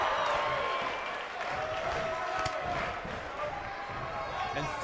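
A wrestling arena crowd roars throughout, a dense wash of cheering and jeering with scattered claps, sustained and fairly loud at a distance.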